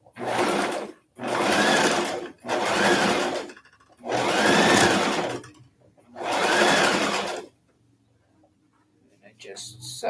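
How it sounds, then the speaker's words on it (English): Sewing machine stitching fabric for puppy items, running in five loud bursts of steady whirring separated by short pauses, then stopping, with faint background sounds near the end. "I just sew it, taking out pins as I go."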